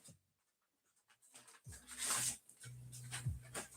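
A dog makes soft, pitiful whimpering sounds, with brief whines rising and falling in short bursts close by, in a quiet indoor setting with no talk.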